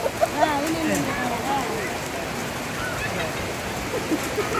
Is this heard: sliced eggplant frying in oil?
no